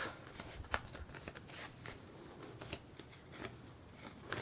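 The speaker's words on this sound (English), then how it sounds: "and then you cut the shape out that you want" Scissors cutting a shape out of folded board, a run of soft, close snips and rustles with faint crisp clicks at an uneven pace, quiet and with no talk.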